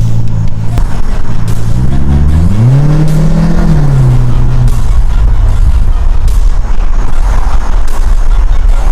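A car fitted with a new Borla exhaust accelerates hard, its loud, close engine note sweeping up through the revs, dipping and climbing again before settling into a sustained roar.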